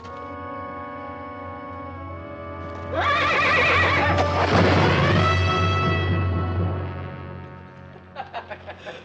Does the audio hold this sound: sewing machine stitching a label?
no